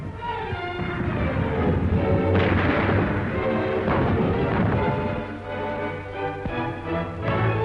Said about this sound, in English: After heavy artillery bombardment, German shock troops enter the city and take possession of the harbor.